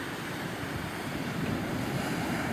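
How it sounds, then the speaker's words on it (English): Ocean waves wash onto Freedom Beach in Phuket as the tide comes in, forming a steady, broad roar of surf with wind noise buffeting the microphone and no talk. "There's the old sea coming in."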